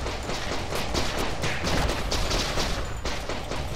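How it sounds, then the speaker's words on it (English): Enemy gunfire in the indie Japanese FPS The Legend of Alfur, aimed at a flimsy wooden shed, crackles in a dense, continuous barrage of loud shots with no pause. "Being shot through the shed."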